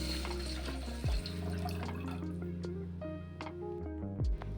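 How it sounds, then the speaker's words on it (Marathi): One small pot of water poured into a cooking pot holding a spice mixture, a close gurgling splash with a few dripping and thudding touches, no voices. "यामध्ये 1 तांब्या पाणी टाकायचं"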